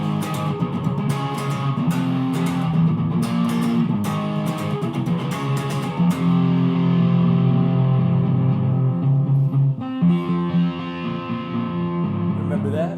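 Distorted electric guitar playing a riff, loud and continuous with choppy muted strums between sustained power chords.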